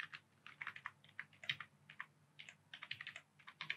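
Rapid, fairly quiet keystrokes on a computer keyboard while typing Python code, coming in clustered runs with short pauses, close and crisp over a faint background, no voices.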